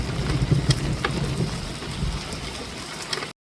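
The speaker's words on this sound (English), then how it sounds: "the heavens open, spilling abundant rain across red dunes." Heavy rain falls across red Kalahari desert dunes, a steady dense hiss of drops with faint low rumbles beneath, constant and enveloping until it cuts off abruptly near the end.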